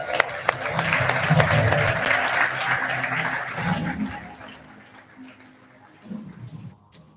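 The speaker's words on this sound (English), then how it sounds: "One more round of applause, please." Audience applause at a skills awards ceremony, a sustained wash of clapping from a crowd that swells and then tapers off, with a voice speaking over it.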